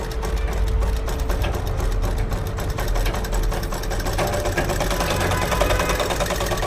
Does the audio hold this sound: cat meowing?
no